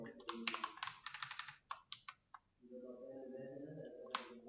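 Rapid keystrokes on a computer keyboard, a quick burst of clicks followed by a few separate taps, recorded close up while someone talks over the later part.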